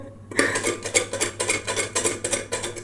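An empty plate set down and shuffled over a serving of food and fries, a run of close ceramic and metal clinks and scrapes in quick uneven succession, with no voices.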